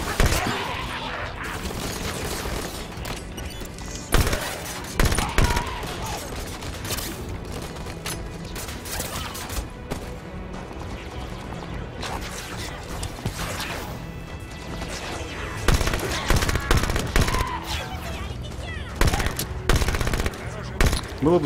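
Rapid bursts of automatic submachine gun fire from Halo 5: Guardians crackle in repeated volleys, loud and close, mixed with mechanical clanks and crashes.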